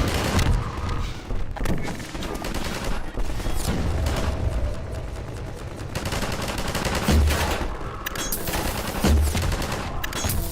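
Sustained gunfire in the video game Half-Life 2, with rapid bursts of shots and heavy thumps repeating loudly throughout, dense and close, with no talking heard.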